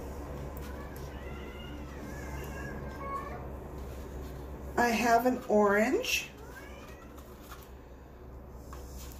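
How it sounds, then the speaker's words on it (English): A pet cat meows a couple of times in the background indoors, short rising calls in the middle of the clip, heard alongside someone talking. "And you probably hear my cat in the background."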